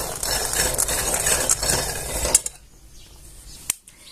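Peanuts dry-roasting in a pan, a dry rustling and stirring rattle for about two seconds, then near silence broken by a couple of sharp clinks from a utensil against the pan.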